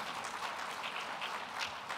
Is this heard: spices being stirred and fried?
no